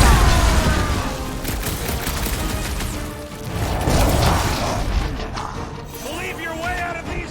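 Bursts of gunfire in a Marvel's Guardians of the Galaxy battle, rapid shots and mechanical clatter mixed with booms and shouting voices, loud and busy throughout.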